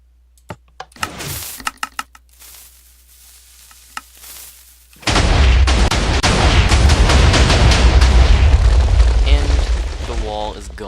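A Minecraft TNT hybrid cannon goes off after a few sparse clicks, breaking into a dense, loud, continuous rattle of rapid explosions that keeps going for about six seconds.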